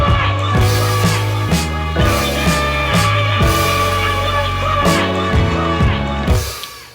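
Beat with a synth lead line over a steady rhythmic groove, pulsing bass notes and regular drum hits repeating in a loop, loud and full with no voices, ending with a short fade.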